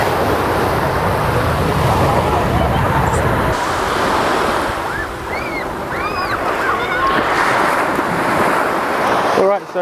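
Sea waves wash steadily onto Roker Beach in Sunderland, a loud continuous surf roar mixed with wind, with faint bird calls in the middle.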